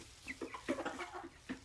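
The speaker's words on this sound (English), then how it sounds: "chicken fun in our new winter coop" Chickens in a winter coop cluck in short, quick bursts, several close soft calls scattered across a brief moment, with no talking.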